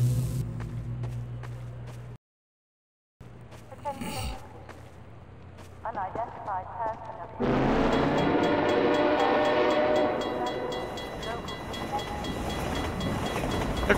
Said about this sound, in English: The trains are creepy too.